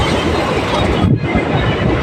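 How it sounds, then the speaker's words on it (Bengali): Local train rattling over changing rail tracks, a loud, dense close-up clatter of wheels and carriage rumble with a brief dip in the middle and no talking. "পাটরি যখন চেঞ্জ হয় এই আওয়াজটা আমার খুব ভালো লাগে শুনতে"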